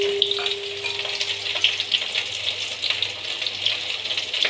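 Onions frying in a pan while beef curry is being prepared: a steady, close crackling sizzle with faint watery hiss, continuous and alone without talk.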